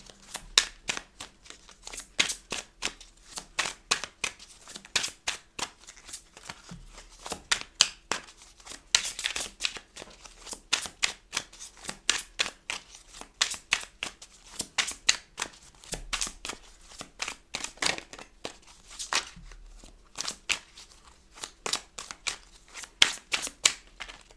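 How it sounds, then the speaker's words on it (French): Tarot cards are shuffled by hand for a reading, giving rapid close riffling bursts that repeat in uneven rhythm throughout, with no talking. "je vais récupérer toutes ces cartes et je vais vous faire un tirage"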